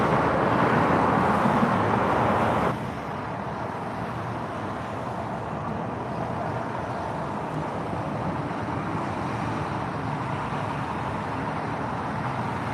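Street traffic in San Diego, a steady wash of road noise from passing cars, louder for the first few seconds and then a constant lower rumble, with no talking.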